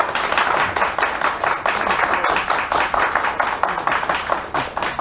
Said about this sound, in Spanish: a quien queremos pedir un aplauso